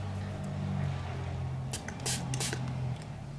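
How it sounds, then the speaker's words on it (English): Water misted from a spray bottle onto a squared-off makeup brush: a few short hissing bursts near the end, heard close over a low room hum. "I'm gonna just spray it with some water"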